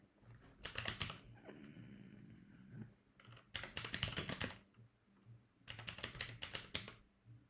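Fast bursts of typing on a computer keyboard, three dense clusters of rapid key clicks separated by short pauses, close and clear in a quiet room.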